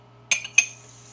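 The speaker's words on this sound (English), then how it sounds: "Just putting a little strainer in there." A small strainer is set into a container with two quick, light metallic clinks, close and faint against a quiet hum.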